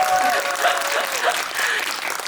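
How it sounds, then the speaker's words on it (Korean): An audience at a film festival Q&A screening of the Korean film Alienoid Part 1 bursts into dense, sustained applause, loud and close throughout. "다들 박수 한번 부탁드립니다."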